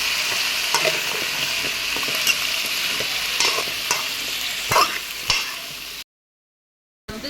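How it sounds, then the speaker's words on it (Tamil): Fried vegetables are tossed and sautéed in a hot pan with a spoon, a continuous sizzle broken by scraping stirs and a few sharper knocks, close by, then cutting to sudden silence before a brief return. "வறுத்து வச்சுருக்க காயை வந்து அதை அள்ளி போட்டு வதக்கிடணும்"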